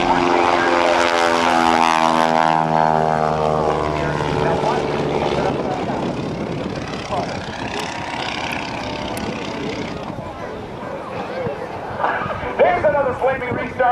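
A 220-horsepower Stearman biplane drones overhead at the NAS Oceana airshow, its engine tone rising and then fading, with an announcer speaking loudly over the sound throughout.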